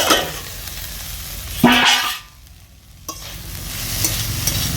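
Pumpkin leaf greens are stirred and fried in a pan with a steady close sizzle, a sharp scrape of the spatula, a brief lull, then the frying noise rising again.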